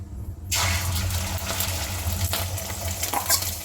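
An egg drops into a hot pan and bursts into loud, close spitting and sizzling that continues steadily, with a few sharper crackles.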